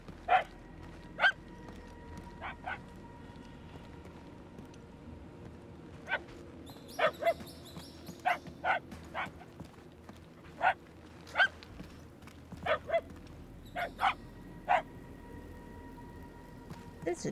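Puppies in a Guardians of the Galaxy video game let out scattered bright barks and yips, some single and some in quick pairs, over a low game ambience with a faint tonal hum.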